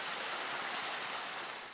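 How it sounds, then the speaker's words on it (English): Stream water pouring out of rocks on a steep hiking trail loop, a continuous broadband rushing and hissing flow, close and steady with no talk over it. "The water's just coming right out of those rocks over there."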